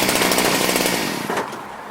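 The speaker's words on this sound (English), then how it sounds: "I'm not familiar with the Redmax weed whacker." Redmax BCZ2460S weed whacker engine running close up, a loud buzzing two-stroke rattle for about two seconds, easing slightly toward the end with no talk.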